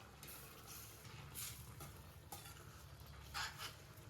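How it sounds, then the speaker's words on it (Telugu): Quiet stirring of fried eggs into a simmering tomato curry gravy in a pan: soft scraping and a faint sizzle, with no one talking. "గుడ్లు కూడా వేసి బాగా కలిపేసాను"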